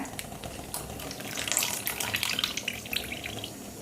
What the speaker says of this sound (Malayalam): ഇനി ഞാൻ പാൽ ഒഴിക്കണം കേട്ടോ ഇവിടെ ഞാൻ ഒരു ലിറ്റർ പാലാണ് എടുത്തിരിക്കുന്നത്